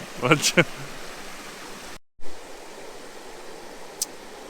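Crevice Falls pours into its creek with a steady, broadband rush of falling water. A voice speaks briefly over it at the start, then the water continues alone after a short break.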